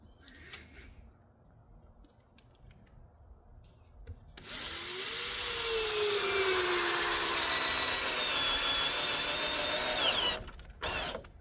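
An old Black & Decker cordless drill spins up after a quiet stretch and runs in a steady, loud whine for several seconds while building a porch column, then stops abruptly with brief clicks.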